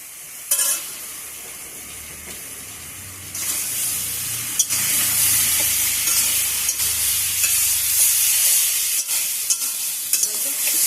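Dried fish, potato and garlic fry with turmeric and red chilli paste, giving a steady close sizzle broken by stirring scrapes. The sizzle grows louder and denser partway through and runs on with no voices.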